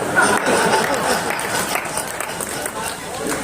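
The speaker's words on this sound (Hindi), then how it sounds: "तो वही लोग ताली बजा रहे" Audience applause at the Akhil Bharatiya Virat Kavi Sammelan poetry gathering in Kashipur, a dense, steady wash of clapping from a crowd with chatter mixed in, loud and sustained through the whole moment.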